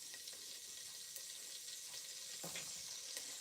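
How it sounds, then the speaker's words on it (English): Onions sizzle steadily in a frying pan in a home kitchen, with a soft continuous crackle and a few brief clinks and stirring scrapes over a faint background hiss. "So I'm going to fry my onions now."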